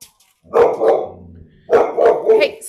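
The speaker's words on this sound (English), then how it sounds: "What are you barking at?" A golden doodle barks loudly and close by in two quick bursts, a pair of sharp barks followed by a short pause and then three more.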